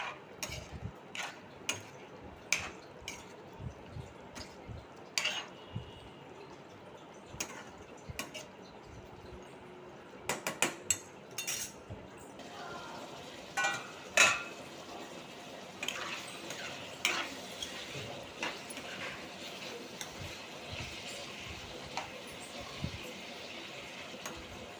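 A spoon stirs chicken curry with garam masala in a pot, making repeated light scraping ticks and metallic clinks. The steady, close stirring runs for a long stretch with uneven rhythm under a soft kitchen hush.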